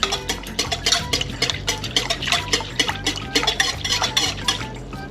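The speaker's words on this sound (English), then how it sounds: "The powder will dissolve into this liquid, and we're going to give it a mix to evenly distribute." Powder being mixed into a liquid in a pot, a rapid rhythmic clatter of a utensil scraping and clinking against the container, with repeated close strokes and no voices.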